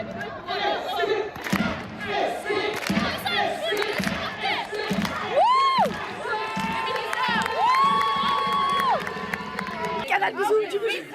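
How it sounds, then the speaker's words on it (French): A crowd cheers and shouts loudly at a women's football broadcast event, with excited voices, whistles and chatter running throughout and a few rising whoops near the middle. "Applaudissez à la Ligue des Champions."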